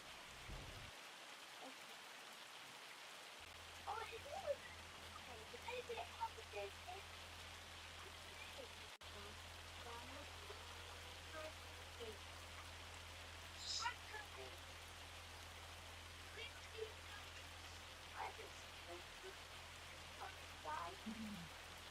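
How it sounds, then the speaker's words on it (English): Steady light rain patters across the whole stretch in Farming Simulator 25, a soft continuous hiss with scattered drop ticks and a low hum underneath. "Getting lost in the rain."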